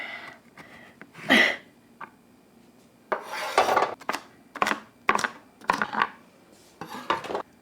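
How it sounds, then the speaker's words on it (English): A knife roughly chops root vegetables such as rutabaga on a cutting board, with irregular sharp thuds and clacks in scattered bursts, some close together, against a quiet kitchen background. "I like to cut fast, so I always do a rough chop."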